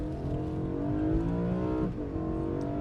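A V8 BMW M3 engine revs hard, its pitch sweeping steadily upward to a high-rpm scream, then dipping briefly at a gear change before climbing again, loud and close with no talk.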